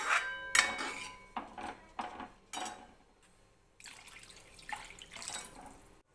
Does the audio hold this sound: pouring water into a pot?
yes